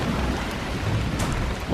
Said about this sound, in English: I think there's a storm happening.